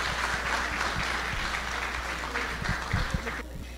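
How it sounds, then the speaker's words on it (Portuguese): Applause welcoming a speaker at a talk about Umbanda, steady moderate clapping from a small gathering throughout, with a low constant hum underneath and a few sharper individual claps near the end. "Vamos receber com uma salva de palmas Maria Teodora Guimarães."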